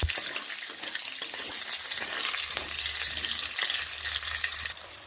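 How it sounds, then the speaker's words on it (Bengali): Green chillies, bay leaf and cumin seeds tempering in hot oil for a mixed vegetable curry while being stirred give a loud, steady, close sizzle with scraping stir noises throughout, no voices. "তিনটে কাঁচা লঙ্কা তেজপাতা ও জিরে ফোড়ন দিচ্ছি কয়েক সেকেন্ড ফোড়নগুলোকে এইভাবে নেড়ে নিচ্ছি"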